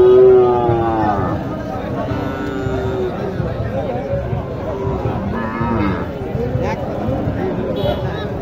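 Cattle at a Naogaon cattle market, where Sahiwal and Gir heifers are sold, lowing loudly in long drawn-out moos, several animals calling close by amid the murmur of a busy crowd and people talking.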